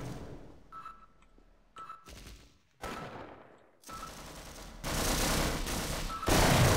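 Bursts of enemy gunfire in the video game Half-Life, sharp volleys that start sparse and grow into loud, dense sustained firing toward the end, with no talk over it.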